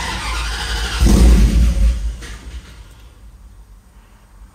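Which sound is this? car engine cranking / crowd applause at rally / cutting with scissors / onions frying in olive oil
car engine cranking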